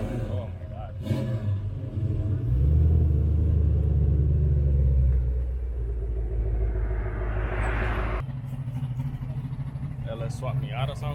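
An LS V8-swapped Mazda Miata rumbles with a deep, steady engine drone close by, swelling through a rev and then settling, with crowd chatter and other car noise around it.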